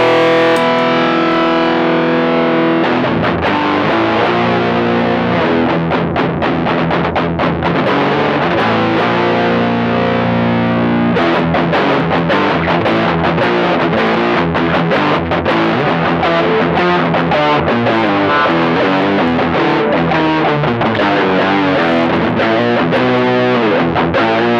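Distorted electric guitar with an Electro-Harmonix POG polyphonic octave added, thick and loud, playing continuous chugging riffs and sustained chords almost without a break, the octave layer fattening the gritty tone.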